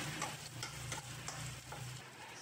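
Ginger fries in a pan for ginataang bagongon, a faint steady sizzle punctuated by several soft scraping stirs.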